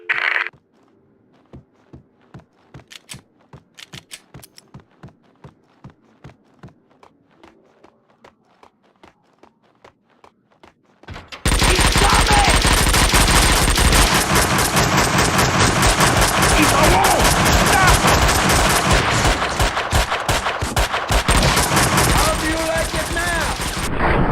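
Gunfire from gangsters in the PC game Max Payne 2: The Fall of Max Payne, beginning as scattered single shots over quiet footsteps and then erupting into a loud, dense, continuous barrage of automatic fire.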